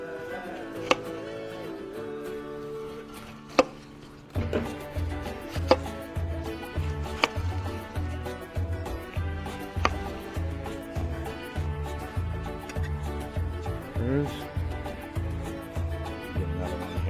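A knife chops through a pineapple on a cutting board while it is prepared for grilled island kabob skewers, with steady repeated thuds and crunchy cuts, close and fairly loud, and no talk.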